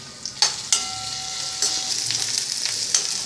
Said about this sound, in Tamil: இப்போ இதெல்லாம் சேர்த்து நம்ம வதக்கிக்கலாம்.